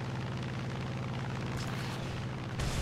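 Rockets fired from the right wing of a P-47M in War Thunder give a continuous heavy rumbling boom with a louder burst near the end, no talk over it.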